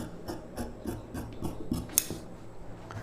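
Scissors snip through blouse fabric along a round front neckline, a steady series of crisp, close cutting strokes roughly every quarter second with soft rustling of cloth between, and no talk.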